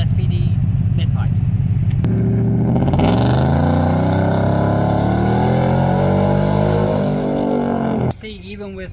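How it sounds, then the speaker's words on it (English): A Whipple-supercharged 3.8 Ford Raptor R with AWE exhaust, SPD ported manifolds and SPD mid pipes idles with a low burble, then loudly revs, its engine note climbing and holding before cutting off sharply, with a voice audible near the start. "This is AWE exhaust, SPD ported manifolds, and SPD mid pipes."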